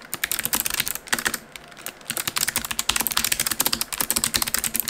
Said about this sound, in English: This is the clicky version and I quite like the way the switches feel.